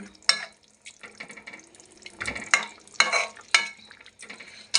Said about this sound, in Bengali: একটু খুন্তি দিয়ে নাড়া দিয়ে দেব যাতে ভালোভাবে মশলাটা লাগে